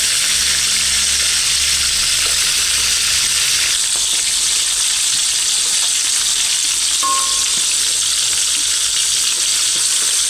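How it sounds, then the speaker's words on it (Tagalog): Tilapia frying in hot oil, a loud, continuous dense sizzle filling the whole stretch, steady and close, with a low hum at first and no talking. "ang palatandaan ko na luto na yung isda kapag yung tunog niya ay mahina na"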